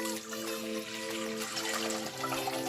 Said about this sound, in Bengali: হাঁড়িতে দিয়ে দিচ্ছি 2 লিটার পানি